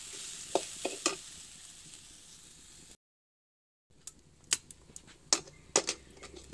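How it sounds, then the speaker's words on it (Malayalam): Grated coconut roasts in a pan for sambar, a faint dry sizzle with sharp intermittent scraping stirs, close up, the sound briefly dropping out midway before the stirring resumes. "ഇനി നമുക്ക് ഈ നാളികേരയിലേക്ക് ഇട്ട് വറുക്കാം."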